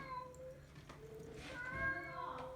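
A house cat meows near a smart speaker that is playing recorded meow sounds, giving several drawn-out, wavering cries close to the microphone over a low background hum.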